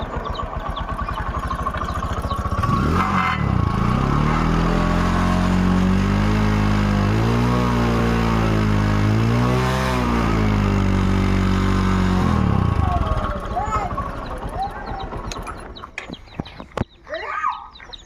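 A Hero Discover motorcycle, a 2014-registered ending model in good condition, has its engine started and held at a steady throaty idle with rising and falling revs for about ten seconds before it cuts off.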